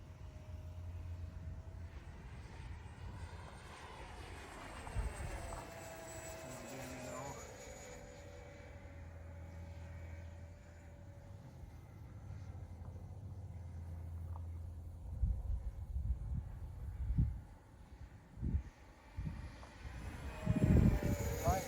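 An electric ducted fan powers a 1/9-scale A7 Corsair II model jet at full power, sending a rising and falling whine with a Doppler sweep past the listener at a distance, followed by louder thumps and a person speaking.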